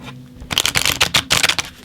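Tarot cards are shuffled up close in quick, papery riffling bursts, with a short pause partway through, heard alone without talk.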